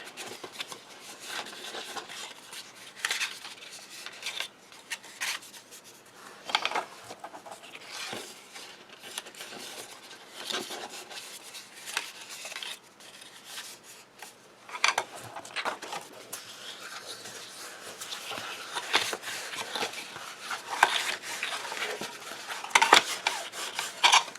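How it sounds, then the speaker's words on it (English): Scored paper card lines get folded down close up, giving irregular dry rubbing, creasing and rustling strokes with occasional sharper taps, continuous throughout and without talk. "And then we're going to fold all of the scored lines down."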